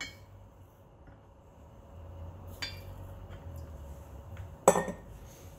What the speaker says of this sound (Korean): 인스턴트 과립이 녹을 수 있도록 잘 저어줍니다